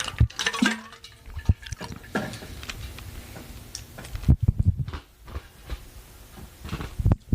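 Water is poured into a cup holding ice, close and irregular, with gurgling splashes, ice clinks and knocks in uneven bursts, and no talk over it.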